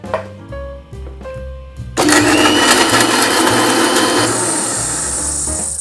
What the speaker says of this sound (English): Now I'll grind this into a smooth paste.